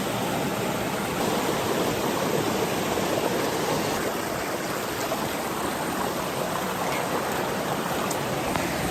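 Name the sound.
river water flowing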